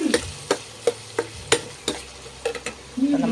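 Onion, ginger, green chili and garlic sauté in a pan for an egg curry, with a spoon clacking sharply against the pan at a steady beat over a quiet sizzle. Nothing else is heard.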